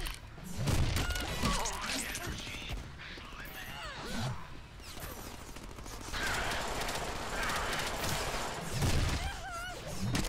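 Rapid gunfire from a weapon in the Deadpool video game, with dense bursts of shots, clanks and impacts mixed with game effects and music, and someone talking at times over the din.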